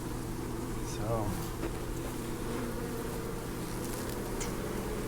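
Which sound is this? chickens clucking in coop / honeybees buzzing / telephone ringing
honeybees buzzing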